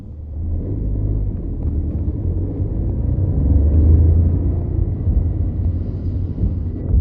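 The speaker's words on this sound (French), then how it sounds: "allons faire un tour avec pour vérifier le train roulant, tester la direction et voir comment le moteur se comporte" A 2020 Renault Clio 5 driving on the road, heard as a steady low engine and road rumble that swells slightly midway, with no talking.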